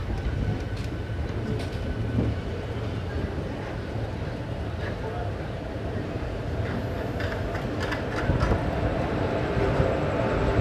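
The Tirupati Coimbatore Intercity Express running at speed, a loud continuous rumble with rattling carriage noise and faint wheel clatter heard from inside the train.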